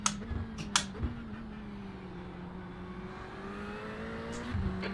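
The engine of a Ferrari 488 GT3 in the iRacing sim holds a steady mid-pitched hum that sags and then climbs slightly, with a few sharp clicks and bumps early on and again near the end.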